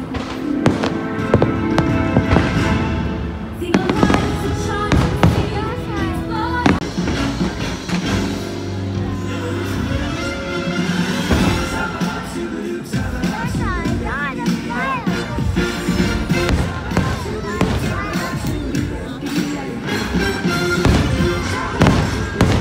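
Fireworks show at Disney World in December, with a continuous run of pops and booms under loud music and people talking nearby.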